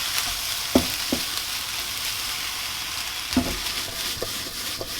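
Food frying in a pan on a stove while being stirred, with steady broadband sizzle and a few sharp scraping clicks from the utensil, close and alone.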